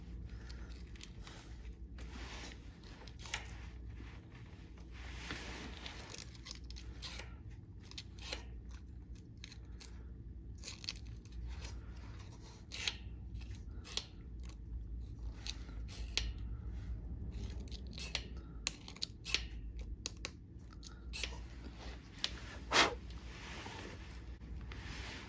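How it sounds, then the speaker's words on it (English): A small piece of 220-grit sandpaper rubs on a cover part of an original Cub Cadet tractor being brought back to running, making faint, intermittent scratchy scraping close by with no talk. "Got us a quick little piece of 220 grit sandpaper"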